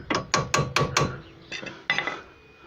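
Hammer taps a clean bolt into the lower ball joint of a 2007 Ford Mondeo 2.0 TDCi during front wheel bearing work: five sharp, evenly spaced metallic knocks close up, then a few softer follow-up taps.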